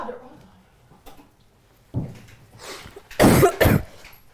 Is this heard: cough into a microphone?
yes